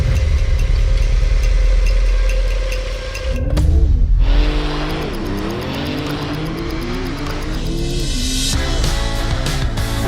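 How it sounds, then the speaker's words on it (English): Porsche 911 Turbo S (992) accelerating hard: a loud, close engine roar with a brief lift, then rising tones that climb and step down through gear changes, heard from inside the car with no talking. "It's amazing how this 911 Turbo S accelerates."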